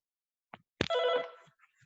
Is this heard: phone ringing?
yes